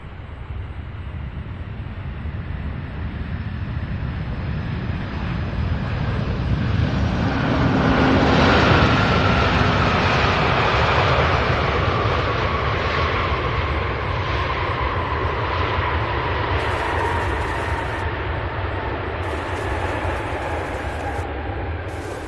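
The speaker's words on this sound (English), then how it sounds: "Absolutely incredible landing." A large airliner lands at Louisville International Airport, its engine roar building to a peak and then holding as a steady, loud drone while the aircraft rolls down the runway.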